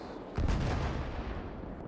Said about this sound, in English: we've got towed M1937 guns, I believe, have arrived